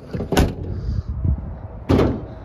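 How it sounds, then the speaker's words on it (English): A 1987 Chevrolet K30 4x4 dually pickup truck door opening: a sharp metallic click and clunk, then a second solid clunk about a second and a half later, over a low background rumble. "Let's open that door up again and pop the hood."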